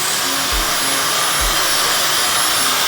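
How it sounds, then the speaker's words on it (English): A handheld hair dryer set to cool blows a loud, steady, close-up rushing whoosh throughout, with a few soft low bumps as it is moved around. No one speaks. "So I pull out my blow dryer, put it on cool"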